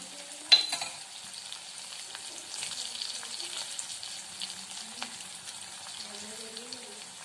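Onions frying in a pan for tamarind rice make a faint, steady hiss, broken by one sharp clatter near the start and light stirring noises after it.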